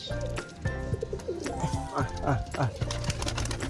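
Pigeons coo repeatedly close by while they feed, with soft throaty calls overlapping and a few sharper chirps mixed in.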